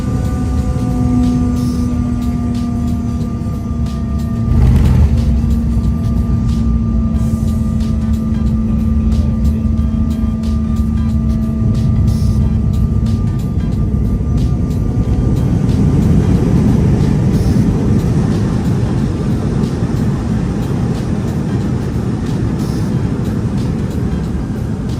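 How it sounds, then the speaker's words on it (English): Steady, loud cabin roar aboard a COMAC ARJ21 airliner landing into Jakarta, a continuous broadband engine and airflow rumble with sustained tonal hums throughout, with no talk. "it's time to sit back and enjoy the landing into Jakarta on the ARJ21."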